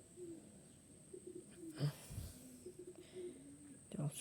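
A sick pigeon suffering from pox, being treated at home, gives a few soft, low coos and wheezy snorts, close and faint against a quiet room with a steady background hum.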